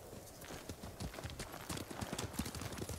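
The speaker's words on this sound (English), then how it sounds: "Lord Shimura's got a pretty cool horse, too." Horse hooves clip-clopping at a steady trot in the samurai video game Ghost of Tsushima, rapid rhythmic thuds that sound close and continuous, with no talk over them.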